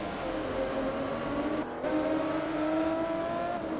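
A race car engine in Forza Motorsport 2 drones and climbs in pitch as it revs, with a short dip in the middle before pulling again, loud and continuous.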